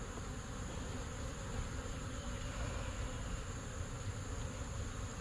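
Honey bees hum in a steady, faint drone throughout a routine beehive inspection, a continuous buzz with no talking.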